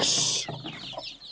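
Chickens, including Cochin chickens, cluck close by in a short burst of clucks and squawks, with no talking.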